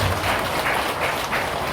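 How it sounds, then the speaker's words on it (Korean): Listeners at a Buddhist dharma talk at a temple break into brief applause, a short burst of clapping that rises and falls in a few uneven waves. "박수."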